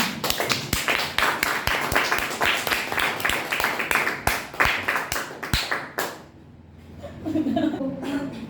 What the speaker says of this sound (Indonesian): Sekali lagi, tepuk tangan untuk kita semua.